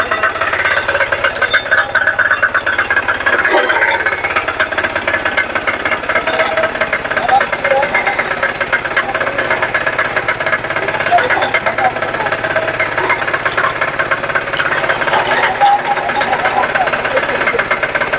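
A 7hp Kama power tiller engine running steadily and loudly close by, a continuous rattling mechanical drone with a knocking texture that keeps the same level throughout.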